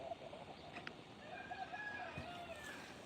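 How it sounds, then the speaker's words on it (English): Farmyard chickens cluck and murmur softly at a distance during morning feeding, with a few short calls over quiet outdoor background noise. "So they're really cool, these chickens."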